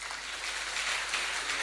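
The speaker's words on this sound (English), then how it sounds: "Let's clap for Jesus." Distant, soft applause from a church congregation, a continuous wash of clapping that holds evenly for a moment with no voices over it.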